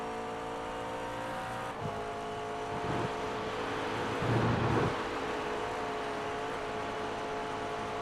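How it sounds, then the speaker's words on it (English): McLaren GT3 race car in a 24-hour racing game at Spa, its engine holding a steady high drone at speed with a couple of brief gear-shift dips and a rising surge, loud and close throughout. "Come on, McLaren, straight line speed."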